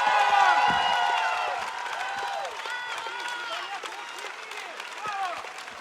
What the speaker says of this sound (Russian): еще раз громче аплодисменты